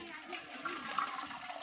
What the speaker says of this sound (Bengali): এবার বাঁধাকপিটাকে জল ঝারিয়ে নেব